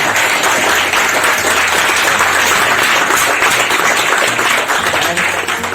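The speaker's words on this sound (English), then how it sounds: "So a big round of applause for them." Dense, sustained applause from a hackathon audience fills the room, steady and loud throughout with no break.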